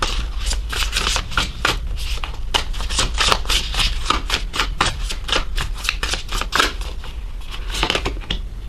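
Tarot cards being shuffled and drawn, a dense run of crisp riffling, flicking and slapping of card stock, steady and close with no talk.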